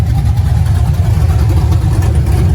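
A deep, rumbling LS V8 engine in a 1985 Chevrolet squarebody truck idles steadily and loudly up close, with a throbbing low-end pulse and no talking.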